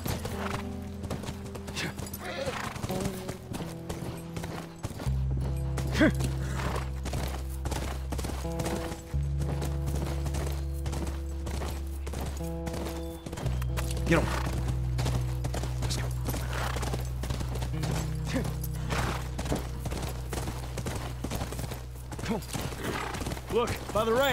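Rhythmic hoofbeats clip-clop steadily throughout, with a horse whinnying at points, set against a low droning soundtrack from The Last of Us and occasional talking.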